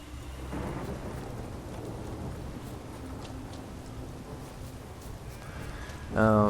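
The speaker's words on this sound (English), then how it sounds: "It's raining." Steady rain pours in The Witcher 3 with the W3EE mod, a dense, even hiss that continues throughout, with a brief louder tonal burst near the end.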